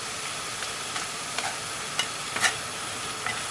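Masala frying in a pan while yogurt cooks down for Lahori kata-kat of kidneys and testicles: a continuous hiss and sizzle with light, sparse spatula scrapes, close but fairly quiet, no talk.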